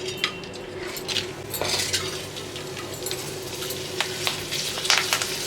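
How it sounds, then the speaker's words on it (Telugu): Curd chillies fry in hot oil with a steady, busy sizzle, and metal utensils clink and scrape against the pan as they are stirred. The sound is close up and there is no talk. "ఈ పెరుగు మిరపకాయల్ని నూనెలో వేసుకొని అయితే బాగా ఫ్రై చేసుకున్నాము."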